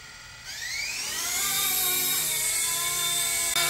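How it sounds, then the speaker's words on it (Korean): The brushless motor of an RC MD500 scale helicopter spins up after the throttle is raised, a close, whining tone that climbs in pitch and then holds as a loud, steady whir. "바로 스로틀 내려주면 헬기가 떠올라요"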